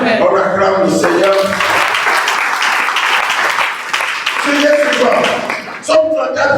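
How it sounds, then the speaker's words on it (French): A church congregation at a fasting and prayer service applauds together, a loud sustained wash of clapping with voices mixed in throughout. "On acclame le Seigneur."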